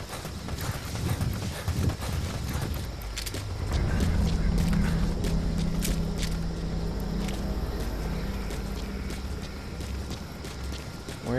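Hooves of D-Horse, the horse in the video game Metal Gear Solid V: The Phantom Pain, clip-clop steadily throughout, close and clear, over a low rumbling game background.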